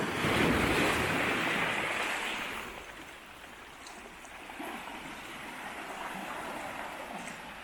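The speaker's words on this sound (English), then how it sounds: "I'm trying to keep an eye on the waves because they're starting to get a little bit feisty, and the tide's rising all the time" Sea waves surge and wash over coastal rocks as the tide rises, a loud broad rush that swells early, eases, then builds again, with wind buffeting the microphone throughout.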